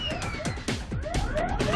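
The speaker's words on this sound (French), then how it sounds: "Il est débordé par les signaux d'alarme, les sirènes et les messages d'avertissement." Cockpit alarms in a flight simulator: warbling siren sweeps and looping warning tones overlap continuously and loudly, rising and falling in rapid cycles with no voices.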